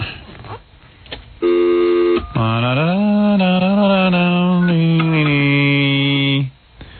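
On a radio show, a telephone is dialed over a phone line, with brief tones giving way to a sustained, wavering electronic tone held for several seconds before cutting off.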